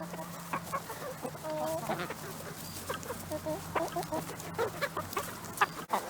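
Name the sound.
chickens clucking while pecking at eggshells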